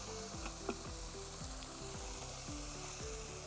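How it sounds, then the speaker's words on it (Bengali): Spice paste for a chitol fish curry sizzles in hot oil in a pan as water is added, a continuous soft frying hiss with a faint stirring clink, no voices. "এই পর্যায়ে এসে আমি জল অ্যাড করব।"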